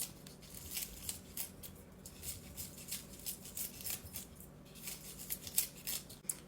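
Kitchen scissors snip through a bundle of green onions in quick, repeated close cuts, a busy rhythm of crisp chopping clicks with no talk.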